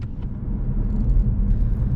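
A manual car braking to a stop, with a low, steady engine rumble and road drone heard from inside the cabin throughout.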